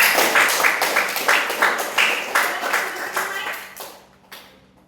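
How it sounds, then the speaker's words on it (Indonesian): A classroom of students claps together for a classmate during a teaching session, in quick rhythmic bursts that build into steady group clapping and then trail off near the end. "Tepuk tangan dulu untuk Allen"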